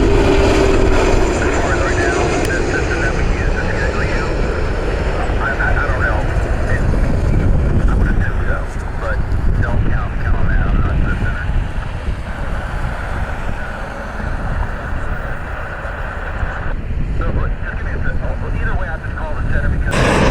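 Southwest Airlines jet landing at Cleveland Hopkins roars and rumbles steadily with heavy wind buffeting the microphone, the noise easing slightly toward the end.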